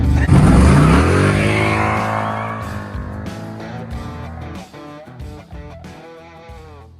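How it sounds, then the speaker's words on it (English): A Chevrolet Malibu running on nitrous during a test drive, its engine loud and revving hard with rising harmonic tones that gradually ease off, with voices talking intermittently over the motor toward the end. "Just test drove the Malibu."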